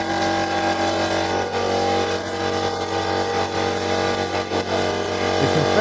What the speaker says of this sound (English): now I'm going to finish cleaning them with compressed air